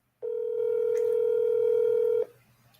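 A steady telephone tone sounds alone for about two seconds, loud and close, as a call is being placed, then cuts off abruptly leaving faint room noise.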